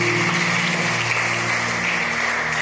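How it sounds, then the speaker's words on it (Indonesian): Church congregation clapping at a Sunday morning service, a steady loud wash of applause over a sustained organ-like tonal hum. "Tepuk tangan dulu untuk Yesus."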